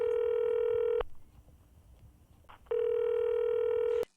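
Telephone tones during a phone call in a comedy drama, two long steady electronic tones separated by a quiet gap with faint rustling, each cutting off sharply with a click.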